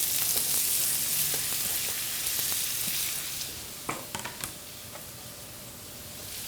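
Diced wild boar frying on a stove as onions go into the pan, a steady broad sizzle that eases slightly, then a few sharp clicks and scrapes of stirring near the end.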